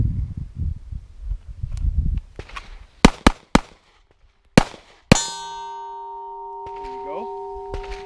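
A pistol fired from a close retention position cracks out several sharp, loud shots in quick succession, followed by a ringing, metallic decay and faint shuffling.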